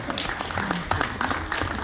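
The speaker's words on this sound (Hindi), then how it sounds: "तालियों के साथ आप स्वागत करें।" Audience applause welcoming a guest at an honour ceremony for an artist who set a world record: brief, dense clapping with a faint voice underneath.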